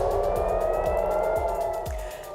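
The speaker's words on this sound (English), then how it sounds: "Sirens sound as missiles are intercepted in Israel" Air-raid sirens wail during a missile interception in Israel, a steady rising tone carried over rumbling traffic and repeated low thuds, sounding fairly close and loud throughout.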